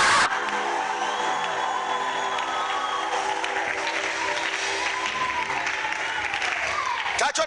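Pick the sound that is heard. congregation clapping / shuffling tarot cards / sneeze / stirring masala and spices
congregation clapping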